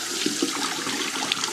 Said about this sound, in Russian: вот здесь вот идет горячая вода